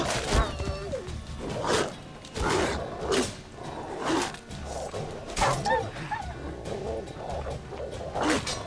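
Dogs fighting in The Witcher 3: Wild Hunt, snarling and barking in bursts mixed with combat thuds and clashes, moderately loud and irregular across the whole stretch.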